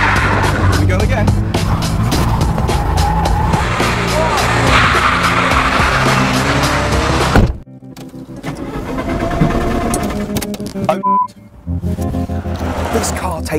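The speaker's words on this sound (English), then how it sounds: "This car takes us back to when we were budding handbrakers, Matt." Peugeot 205 GTI and 208 GTI hot hatches are thrashed hard, with loud revving engines and sustained tyre squeal and skidding, then a sudden drop to quieter engine noise as voices talk over it.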